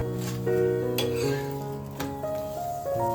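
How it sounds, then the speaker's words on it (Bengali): Parathas frying in a hot pan with a soft sizzle, punctuated by clinks and scrapes of a spatula against the pan and several sharp metallic taps, close up and without talk. "আর এই জন্য কিন্তু প্রথমেই পরোটাগুলোকে ভেজে নিচ্ছি"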